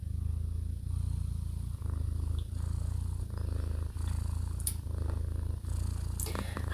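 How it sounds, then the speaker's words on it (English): A female cat purrs close up in a loud, steady rhythmic rumble, each breath cycle marked by a brief dip, with occasional faint clicks around it. "She's a beautiful kitty."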